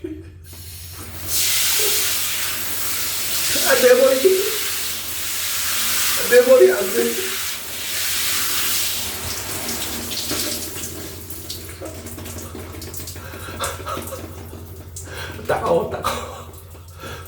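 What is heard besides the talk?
shower head spraying water on head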